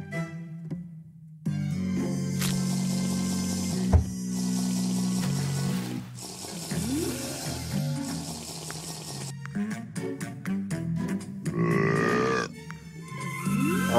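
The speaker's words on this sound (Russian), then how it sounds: "Отрыжка." A cartoonish burp effect in a Roblox golf course obby game, heard among bubbly liquid and gulping sounds, quirky game noises and music, loud and close with no speech.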